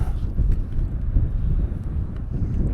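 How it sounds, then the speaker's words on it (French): Wind picks up in the Mercantour mountains, buffeting the microphone with a loud, low, uneven rumble that gusts and eases over a few seconds. "Il y a du vent qui se lève, il fait froid."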